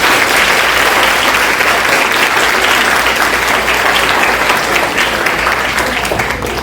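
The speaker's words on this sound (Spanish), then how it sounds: "un fuerte aplauso" Loud, dense audience applause after a talk on eclipses, a continuous wash of many hands clapping close and steady for the whole stretch.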